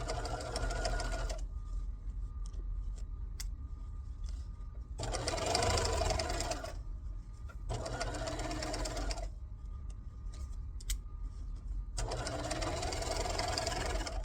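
Sewing machine stitching a bag, running in three or four bursts of rapid rhythmic clatter lasting a couple of seconds each, separated by quiet pauses with faint low hum, close and clear.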